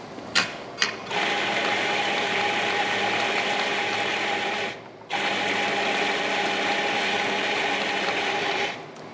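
Espresso grinder, a Mythos, whirring loudly and steadily as it doses ground coffee into the portafilter basket, with a brief pause midway and a few clicks at the start.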